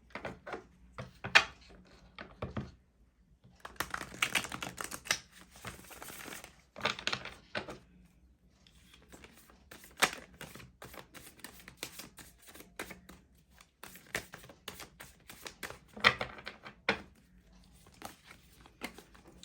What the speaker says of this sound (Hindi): चलिए इस डेक से भी कुछ कार्ड्स निकालेंगे